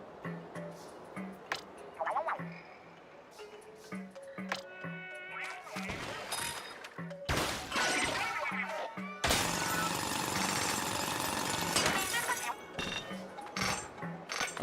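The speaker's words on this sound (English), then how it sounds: "press X to call the bot to drill into the crystal." Robot bot drilling into a crystal in the video game Splatoon Raiders, heard as bursts of harsh, loud grinding rattle over repeated game ticks and chimes, with intermittent quieter gaps.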